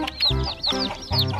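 Rainbow-dyed chickens give a few short clucks in quick succession, close and clear, three brief bursts over a second or so with no talking.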